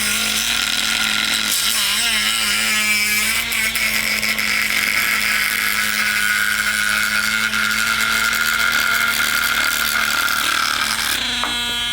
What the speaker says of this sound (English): Just turn the Dremel off.